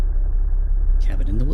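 A car drives toward a woodland cabin in the indie horror game Mimic Search, with a steady low engine rumble throughout and a brief burst of higher-pitched noise near the end; a voice talks over the engine.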